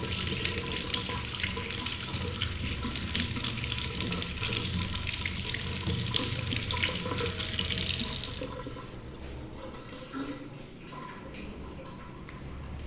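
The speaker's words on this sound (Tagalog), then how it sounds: "So, hugasan muna natin. Para walang alikabok." White tambis fruit is washed under a running tap, a steady close hiss of splashing water lasting about eight seconds, then the flow stops and a quieter room tone with faint handling remains.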